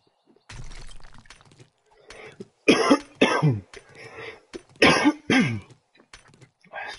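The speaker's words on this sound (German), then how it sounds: "Es tut mir auch leid, dass ich jedes Mal so husten muss." A person coughs in several harsh bursts, some in quick pairs, loud and close, with quieter throat noises and breathing between them and no talking.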